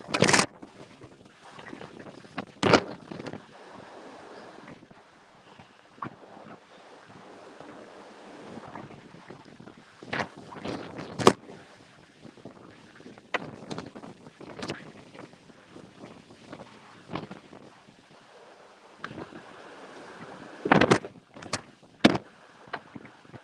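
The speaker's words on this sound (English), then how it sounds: "over this crazy wind." Strong outdoor wind at Pipestone National Monument buffets the microphone in irregular rumbling gusts, with several loud close blasts standing out over a steady roar.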